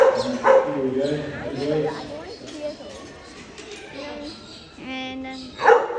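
Sheepdogs give short yips and barks while herding sheep in a field, scattered bursts amid rustling, with a brief whine near the end.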